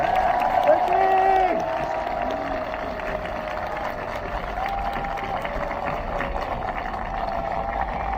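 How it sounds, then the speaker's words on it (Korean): Applause from a large audience at an election campaign event, offered in encouragement of medical staff, a steady broadband wash of clapping over low crowd noise, louder in the first two seconds and then holding steady. "다 같이 힘찬 격려 박수 부탁드리겠습니다."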